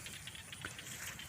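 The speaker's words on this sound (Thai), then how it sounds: "เสียงบรรยากาศฝนตกครับ" Faint, steady patter of rain falling outdoors during fishing, soft and continuous, with no voices.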